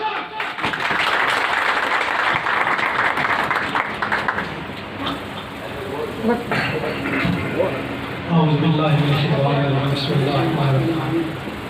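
An audience at a women's wing tribute gathering in Tarnol, Islamabad, claps steadily in loud, dense applause, which fades as an announcer's amplified voice speaks over it.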